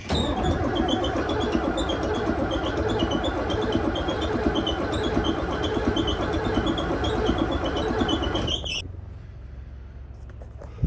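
The engine of a farm irrigation machine cranks over steadily for several seconds, a loud, close, rhythmic churning that then drops away into a quieter idle-like hum.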